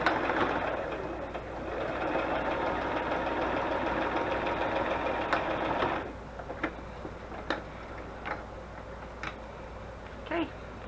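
A sewing machine stitches a paper matchbook flap with a fast, steady mechanical whir that runs close up for about six seconds. It then stops, leaving a few scattered clicks and small handling knocks.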